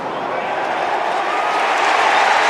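Continuous roar of a large football crowd at a 2008 AFL qualifying final between Hawthorn and the Western Bulldogs, a broad steady wash of cheering that swells slightly toward the end.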